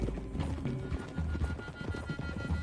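Horses gallop in Red Dead Redemption 2, a steady rapid clip-clop of hooves drumming close and loud with a low rumble beneath, continuing throughout without pause.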